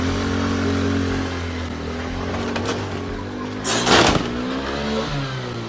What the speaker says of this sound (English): When they finally start the motorbike, they try to escape